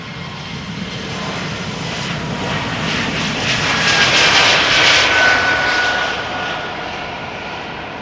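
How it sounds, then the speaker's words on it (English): An Air Baltic Airbus A320 jet airliner passes over Amsterdam Schiphol Airport, its engine roar loud and steady, swelling to a peak mid-pass and then easing slightly as it moves away. "Air Baltic A320 on its way over here,"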